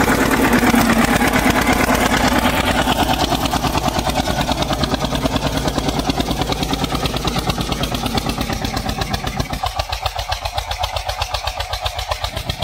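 An Eicher 241 tractor engine labours under load pulling a cultivator, a loud, steady rapid diesel chugging that runs throughout with no talk.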